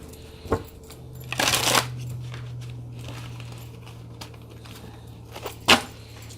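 Tarot cards being shuffled and pulled from a deck, heard as a few brief, close papery riffles and snaps over a steady low hum, with no talking.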